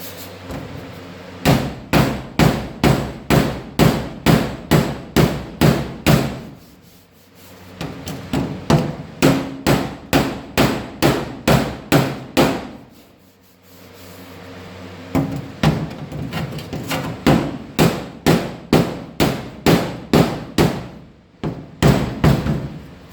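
A hammer taps a weld back into place on metal during cut and butt welding repair: rapid, loud, close strikes in long rhythmic bursts separated by short pauses.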